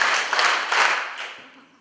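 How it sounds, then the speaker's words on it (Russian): A live audience at a talk answers a request to clap three times, a burst of crowd applause that swells in quick claps and then fades away. "Кто нас слышит, хлопните три раза."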